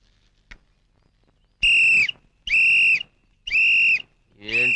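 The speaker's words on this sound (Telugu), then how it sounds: "ఏంట్రా విజిల్ కొడుతున్నావు" A person blows a whistle in a Telugu film comedy scene: three loud, sustained, shrill blasts in steady succession after a single sharp knock, with a fourth blast starting as it ends.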